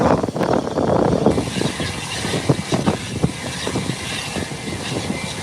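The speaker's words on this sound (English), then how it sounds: "The Beechcraft 1900 has made her 180-degree turn, and she did went to the threshold." A Beechcraft 1900 propeller aircraft takes off at an airport, its engine and prop roar steady and fairly loud throughout, with rough broadband rumble and no talk.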